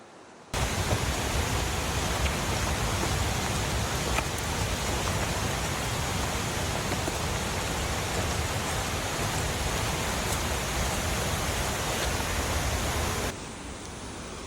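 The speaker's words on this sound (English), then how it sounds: "it is also reassuring having that river right beside me" A river flows right beside a hiking trail on the way to Radium Lake, a broad, steady rushing roar that holds constant for the whole stretch and fades at the very end.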